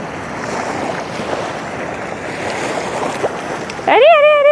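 Strong water pours from Rondiha dam near Durgapur, a steady broadband roar like surf mixed with wind buffeting the microphone, loud and continuous, with a tonal warble cutting in near the end.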